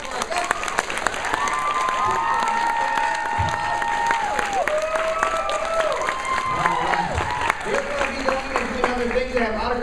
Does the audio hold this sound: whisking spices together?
no